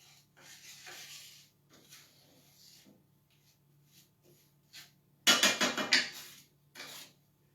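A cast iron skillet on the stove is stirred while the apple pie base melts: soft, sparse scraping at first, then a cluster of loud, close metallic clatters and knocks.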